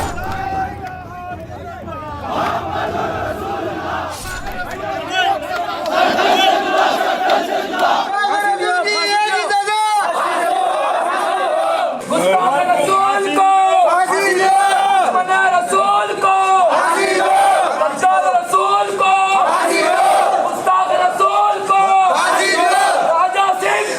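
A street crowd chanting slogans in rhythmic bursts, loud and massed, with shouting voices rising over a dense babble of the throng outside a police station.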